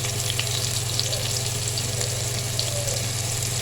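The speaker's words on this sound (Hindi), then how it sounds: "प्याज को हम गोल्डन ब्राउन करेंगे।" Onions frying in a pan with ginger-garlic paste give a steady close sizzle and hiss throughout, with a constant low hum underneath and no one talking.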